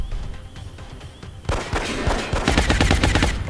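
Ballistic pistol shots ring out in the video game XCOM: after a quieter opening, a loud, rapid run of sharp cracking reports starts midway and keeps firing in quick succession to the end.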